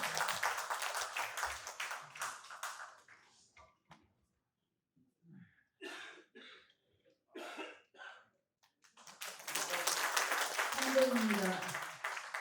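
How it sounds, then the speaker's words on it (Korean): Applause welcoming a singer at a memorial ceremony for President Kim Dae-jung in Incheon: bursts of crowd clapping at the start and end, with a quieter gap in between that holds coughing and shuffling. "큰 박수로 환영해 주십시오."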